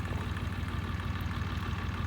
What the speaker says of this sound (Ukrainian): Тракторець працює, фреза працює, все, все чітко.